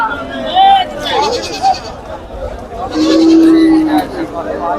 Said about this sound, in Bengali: এই যে দেখুন এই ছাগলগুলো বিক্রি হয়ে গেছে